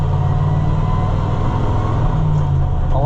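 Ford L880 tandem dump truck engine droning as it shifts up through the high-range gears, a loud steady low rumble heard from inside the cab, with a slight pitch change toward the end.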